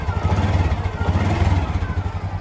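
A Honda XRM 125 motorcycle engine runs steadily at idle nearby, a loud, even, throbbing putter with a slight mechanical clatter and no talk over it.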